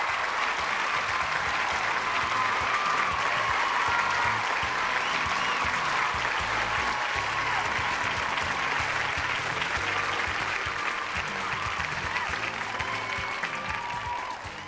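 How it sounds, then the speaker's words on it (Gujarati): A studio audience at a televised courtroom-style talk show claps in sustained, even applause, a dense wash of many hands that holds steady and tapers slightly at the end. "અને આ તાળીઓ આમ જ વાગતી રહેવી જોઈએ"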